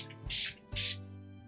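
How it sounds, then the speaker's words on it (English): Urban Decay makeup setting spray gives two quick, close hissing pumps in succession, each lasting about a quarter second, over a quiet background. "And another spray of the Urban Decay."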